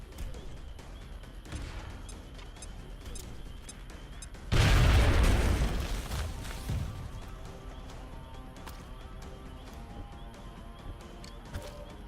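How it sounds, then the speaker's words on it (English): A grenade launcher blast in XCOM: Enemy Within hits near a Sectopod, a single heavy boom that bursts suddenly and then fades over a couple of seconds against quieter game sounds. "we launch a grenade in the general direction of the Sectopod"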